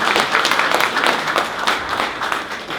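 A crowd claps warmly and continuously for a speaker at a public speaking event in Brisbane, the applause dense and close throughout.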